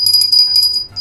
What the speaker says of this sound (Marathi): त्याप्रमाणे ती पण घंटी आहे बघा